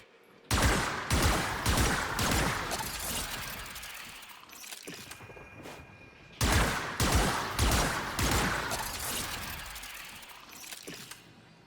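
Warframe secondary pistols firing in rapid bursts, two loud volleys of sharp cracking shots in close succession, each burst tailing off before the next starts.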